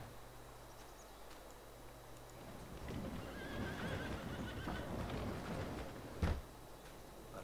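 Horses neigh and whinny inside a barn in Farming Simulator 22, with clip-clopping hooves and a steady low hum behind them; one sharp, louder burst comes near the end.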